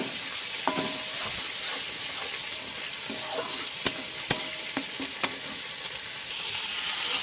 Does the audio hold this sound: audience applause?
no